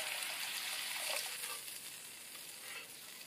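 Water poured into a pan of sizzling masala for a jhigani (ridge gourd) curry: a close hissing, bubbling frying sound that swells briefly and then settles into a softer steady sizzle.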